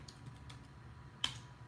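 Soft keystrokes on a computer keyboard, a few quiet irregular taps followed by one sharper click, faint and close over low background hum.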